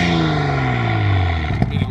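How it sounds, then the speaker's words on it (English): A Toyota four-cylinder engine fitted in a Nissan S15 revs up and falls back, a loud, close engine sweep with a rough, stuttering finish. Voices are heard under the engine. "Give it a rev, Craig."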